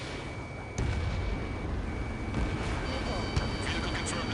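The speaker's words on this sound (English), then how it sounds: "Missile away." Missile launch in the combat flight game Ace Combat 7, a sudden loud whooshing burst over continuous jet engine roar and rumble, followed by steady sustained noise with faint tonal beeps.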